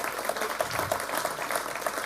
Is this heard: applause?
yes